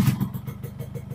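A two-stroke motorcycle, started with its electric starter, putters close by with a rapid, rough low-pitched pulse for a brief moment.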